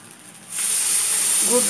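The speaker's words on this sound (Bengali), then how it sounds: "তো এখন আমি দিয়ে দিচ্ছি হচ্ছে পানিটা।" A sudden loud hiss of steam erupts as water hits a hot pan of fried rice and keeps sizzling strongly, with a brief voice at the end.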